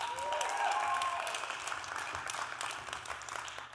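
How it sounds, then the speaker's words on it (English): An audience at a speaker showcase event applauds, a steady wash of many hands clapping that holds at a moderate, somewhat distant level for several seconds. "And one more round of applause"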